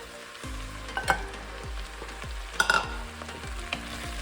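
Celery and carrot fry in a pot for lentil curry, a steady close sizzle broken by several scraping stirs and light clinks of the utensil against the pot.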